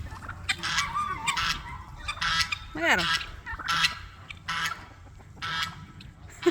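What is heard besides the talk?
ducks calling on a homestead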